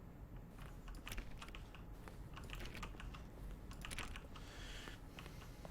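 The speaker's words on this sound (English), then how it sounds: "Each sound is a mix of a keyboard stroke and a synthesized tone." Keyboard strokes from the button sounds of the video game The Stanley Parable, each mixed with a synthesized tone, come in a quick irregular run of clicks over a faint steady hiss.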